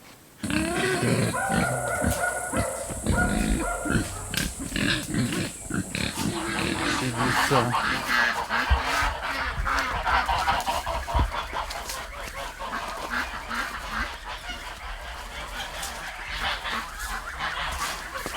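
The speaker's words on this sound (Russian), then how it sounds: "Он держит гусей, уток и поросят." Geese kept with ducks and piglets on a rural homestead honk in a loud, busy chorus. Other farmyard calls join them, and there are faint voices.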